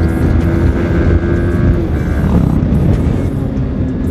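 Loud, steady engine drone from a motorbike while riding, with wind rush and a rising hum at close range; the bike is being ridden with its gears sticking.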